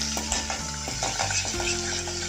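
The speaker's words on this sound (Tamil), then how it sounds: "இதை நல்லா வந்து வெங்காயம் வதக்கிற அளவுக்கு வதக்கிக்கோங்க" Shallots sauté in a pan with cinnamon and cloves for a chicken dish, a steady close sizzle with light scraping and stirring taps over a short stretch.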